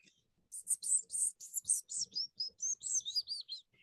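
A blackpoll warbler gives a rapid series of very high, thin, insect-like chirps, repeated steadily and fairly close, in an otherwise quiet setting.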